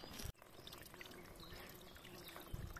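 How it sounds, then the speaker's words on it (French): A small stream trickles along a hiking trail, a faint, steady wash of running water heard from nearby, broken briefly by a sharp knock near the start, with no voices. "Elle a entendu ce petit ruisseau qui dégouline là."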